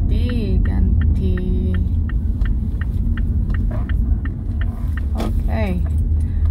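Car being parked in front of a house on an Australian street: a steady, loud low engine rumble and hum runs throughout while a person talks over it.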